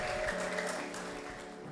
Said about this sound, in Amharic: እልልታ ጭብጨባ ለጌታ ይክብር